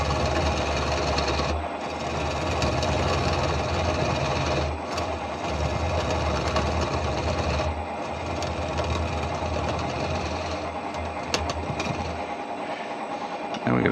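A woodturning lathe spins a piece of holly held on a vacuum chuck, giving a loud, continuous mechanical drone with rough cutting texture and a few brief dips, with no talking.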